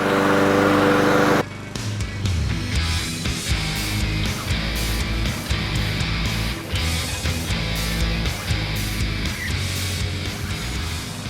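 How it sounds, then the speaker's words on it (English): A Craftsman lawn mower with a Honda engine mowing grass, running as a loud, close, steady engine drone with rough cutting texture and small fluctuations in load, after a brief louder noise at the start, no talk. "Let's go mow."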